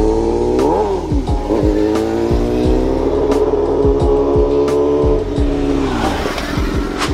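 A new superbike on a ride gives a loud, continuous engine drone whose pitch rises and falls through gear changes and revs, close and unbroken.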